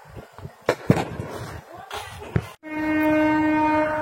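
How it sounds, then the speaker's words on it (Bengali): Train rolling past outside a village field, steady low rumble with a sustained tonal hum, after some brief knocks and a soft voice in the first seconds. "আবার ট্রেন আসছে, দেখেন এই মাত্র গেল এই দিক থেকে, এবার আসছে এই দিক থেকে।"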